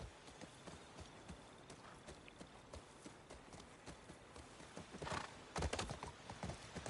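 Horse in The Last of Us Part II galloping with rhythmic clip-clop hoofbeats, then a loud whinny near the end, all under ambient game noise.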